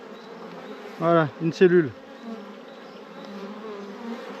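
Honeybees swarm over a frame lifted from a queen-rearing hive, giving a steady, close, droning buzz throughout, with a person briefly speaking over it partway through.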